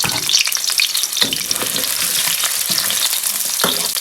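Scallion, ginger and garlic sizzle loudly in hot oil while being stir-fried, a steady bright crackle broken by several scraping stir strokes, close and with no voices.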